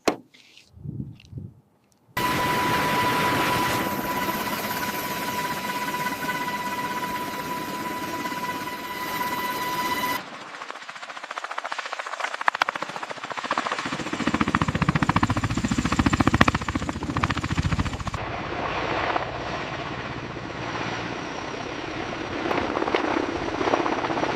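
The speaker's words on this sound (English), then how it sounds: "As the nacelles rotate forward, the rotors change pitch, allowing the aircraft to surge ahead" The loud, continuous roar of V-22 Osprey tiltrotor rotors and engines drones throughout, shifting in tone partway through as the nacelles rotate forward and the rotor pitch changes.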